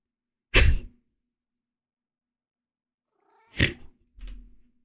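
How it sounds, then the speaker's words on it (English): A cat in a video game meows, one short sharp cry, then after a long quiet gap a second meow followed by a lower trailing growl-like sound, all clean and close with no talk. "I just heard a cat meow."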